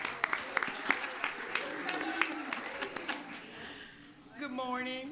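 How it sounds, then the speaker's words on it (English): Clapping from a council meeting audience for a high school basketball team, sharp hand claps scattered over a murmuring room, fading toward the end as a voice rises. "Let's give them a round of applause."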